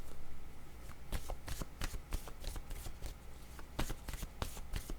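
Tarot or oracle cards being shuffled by hand, a steady run of crisp riffling and flicking bursts, close and fairly loud, with no talking over it.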